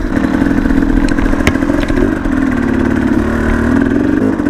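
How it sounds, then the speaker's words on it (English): Dirt bike engines droning steadily at mid pitch while riding over rough terrain, loud and close, with small rises in revs and occasional knocks and clatter. "y'all can watch some dirt bikes ride"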